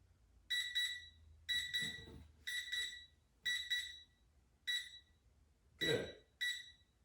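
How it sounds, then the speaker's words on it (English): Beeps from a workout interval timer come in quick, bright double chirps that repeat about once a second. They are faint and set against a quiet room, with soft rustling between some of the chirps. "Getting to know this timer."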